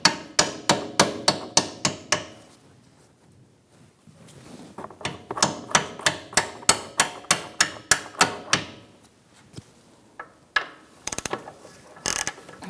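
A hammer taps a punch into a rear lower control arm mount on a 2012-2018 Ford Focus, landing a run of evenly spaced sharp metallic strikes, a pause, then another steady series and a few scattered knocks.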